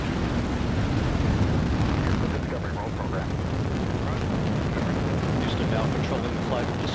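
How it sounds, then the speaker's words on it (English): Space Shuttle Discovery's booster ignition and liftoff in July 2006, a loud, dense, continuous rumbling roar with crackle, steady throughout, with a voice talking over it. "Booster ignition and liftoff of the Space Shuttle Discovery"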